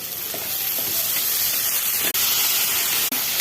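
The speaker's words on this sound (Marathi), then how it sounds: "मसाल्यामध्ये तेलामध्ये फ्राय करून घेऊया।" Mixed vegetables, including peas, green beans and ivy gourd, fry with garam masala and turmeric in hot oil, giving a steady loud hissing sizzle close by, broken by a couple of brief stirring knocks.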